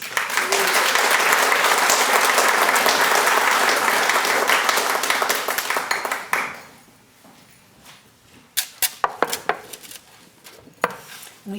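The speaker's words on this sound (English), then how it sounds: "How about one more round of applause?" An audience at a community awards ceremony gives a loud, sustained round of applause that fades after about six seconds, leaving a few scattered claps and a voice beginning to speak.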